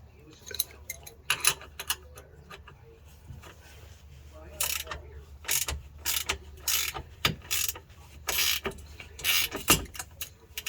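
Ratchet clicking in short bursts while strut bolts come off a Dodge Challenger's rear suspension, close and fairly loud, with pauses and light metallic handling noises between the runs.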